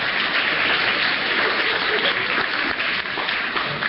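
A studio audience applauds after a card trick on a talent showcase program, a dense, even wash of clapping held steady throughout.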